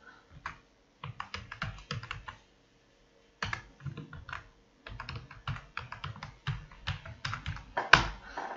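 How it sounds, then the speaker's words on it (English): A password being typed on a computer keyboard for an SSH server login, with soft, quick key clicks in irregular bursts and a couple of brief pauses, close and fairly quiet. "So I'm going to enter my password."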